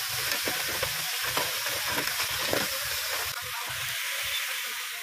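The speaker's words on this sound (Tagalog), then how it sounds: "Tapos ilagay na natin itong tahong. Halo-haloin natin para magisa ng husto." Mussels sautéing in a pan with garlic, onion and ginger, crackling and sizzling steadily while a utensil scrapes and stirs in rhythmic strokes, close and clear with no talking.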